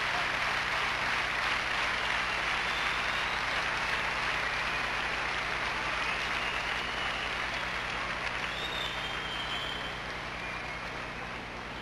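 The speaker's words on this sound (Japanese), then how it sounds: "10点満点を要求する手拍子です。" An arena crowd at a gymnastics uneven bars final claps together in a dense, steady roar of applause, demanding a perfect ten; the sound is broad and distant-sounding, filling the hall continuously and easing slightly toward the end.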